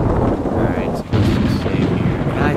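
Heavy thunder rumbles in the Ghost Recon video game, a loud broad crash with a brief dip then rolling on, mixed with game noise and no clear speech.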